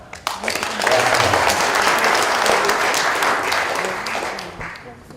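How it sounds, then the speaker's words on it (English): A conference audience at a public health panel breaks into applause for a speaker: a sharp first clap, then dense, sustained clapping that swells and slowly fades, loud and close. "We gave her a big applause."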